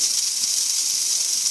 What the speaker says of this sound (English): there's the steam on drying it now